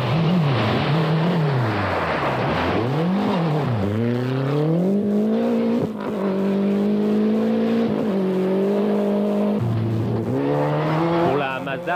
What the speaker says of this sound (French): boost du turbo au maximum sur la Lancia